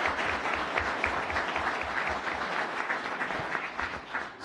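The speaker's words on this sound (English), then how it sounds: "I'm going to applaud." Applause from the audience at a city council meeting, steady dense clapping held for several seconds at moderate level and fading slightly at the end.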